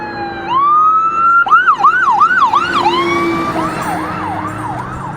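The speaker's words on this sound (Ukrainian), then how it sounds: "Пожарна летить" Fire engine siren at night in Calgary, a rising wail that breaks into rapid up-and-down yelps before settling into a steady whoop, loud and close as the truck passes by on the street, with no talk over it.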